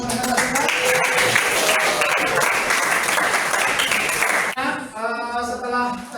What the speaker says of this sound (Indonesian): kita berikan tepuk tangan untuk kelompok 3 yang tadi sudah mempresentasikan